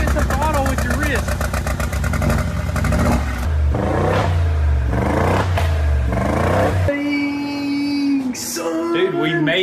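Engine of a 2022 Mercedes G63 G-Wagon being rebuilt after a wreck, loud and up close, with throttle blips swelling in rising and falling revs over several seconds before settling to a steadier note.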